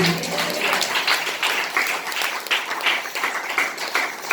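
Steady hand clapping from a church congregation gathered for worship, a dense, continuous wash of many hands at moderate distance with no clear pauses throughout.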